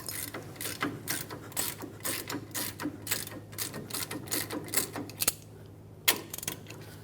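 A long ratchet backing out caliper bracket bolts on a Dodge Ram 2500 during rear brake replacement, a close run of rapid clicking pawl strokes in bursts with brief pauses between.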